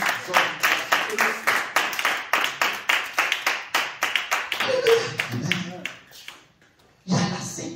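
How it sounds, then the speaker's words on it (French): Congregation clapping in rhythm for Jesus at a church service in Azovè, Benin, with a steady run of loud, even hand claps that fades out, a short pause, then a new burst of noise. "Et acclamons pour Jésus."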